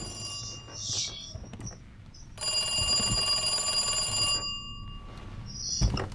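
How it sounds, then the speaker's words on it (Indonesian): An old-style telephone in the video game Resident Evil 2 Remake rings in a long, steady electronic trill for a couple of seconds amid quieter game sounds and brief scattered noises. "Para telepon mungkin dari Chief Iron, kepala polisi."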